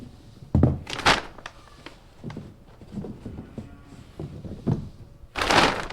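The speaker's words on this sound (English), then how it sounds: "I just closed the big door because we started getting a huge draft in here" A big door is pulled shut: several heavy thunks and rattles over a few seconds, with a final loud thud near the end, close and alone.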